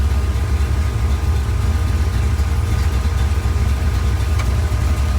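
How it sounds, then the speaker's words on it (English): A car idles on MegaSquirt engine management with ignition timing changed to 10 degrees, giving a steady low engine drone that runs unbroken and close up, with no voices. "And then the car changes tones as well."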